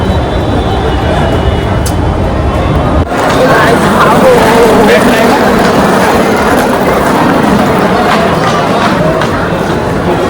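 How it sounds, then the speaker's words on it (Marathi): A train rumbles and clatters loudly nearby as it arrives at Kalyan station, a heavy continuous roar with a sudden shift partway through as it pulls in, voices faintly mixed in. "माझी ट्रेन आली आहे"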